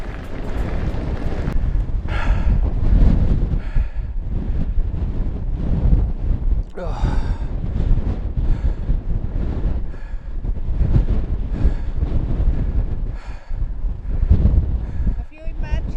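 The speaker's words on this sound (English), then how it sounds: "Have you imagined that the wind would be so strong?" Strong wind buffets the microphone on a walk across a very windy moorland loop between Princetown and Burrator, a constant heavy rumble with gusts throughout, and voices talk briefly over it.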